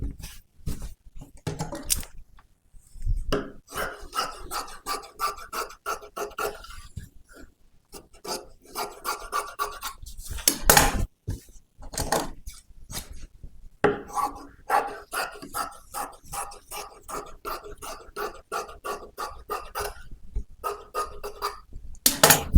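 Scissors snipping through lining fabric to cut a cross piece for a princess-cut boat neck blouse, a steady run of close, crisp rasping cuts in bursts separated by short pauses.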